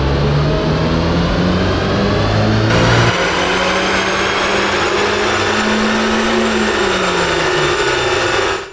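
A 20-plus-year-old modified Italian project car on a rolling road dyno, its engine held in a loud steady drone that climbs slowly in pitch through a full pull, then cuts off abruptly at the end.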